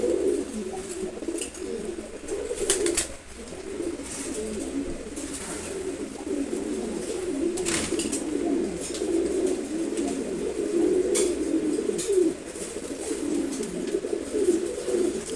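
A pair of racing pigeons coo steadily, low throaty calls repeating nearly continuously close by, with occasional faint background clicks and rustles.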